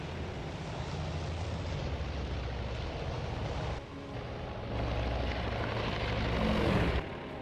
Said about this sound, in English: Alright, so Yorktown aircraft is returning.